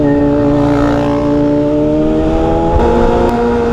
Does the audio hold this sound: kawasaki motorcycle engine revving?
yes